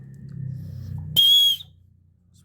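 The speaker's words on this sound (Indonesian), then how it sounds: "Ini ada punya ferrorot atau punya pemantik api dan ada peluit." A loud, shrill single blast from the built-in whistle of a Gerber or Ganzo survival knife, lasting about half a second, coming after a stretch of low rumbling handling noise, with quiet room sound afterwards.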